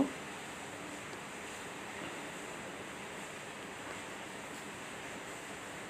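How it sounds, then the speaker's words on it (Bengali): Chicken meat sizzling in hot oil with spices while being sautéed for a chana dal and chicken dish, a steady, dense hiss running unbroken throughout with no talking. "এখন আমি মাংসটা দিয়ে দিচ্ছি মাংসটা একটু মশলার সাথে কষিয়ে নিব"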